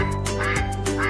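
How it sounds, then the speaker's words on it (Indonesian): A cartoon duck quacks in the children's game Wilson Kiddy, several quick, bright quacks over light background game music. "Wih, ada bebek."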